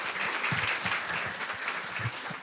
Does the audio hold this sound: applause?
yes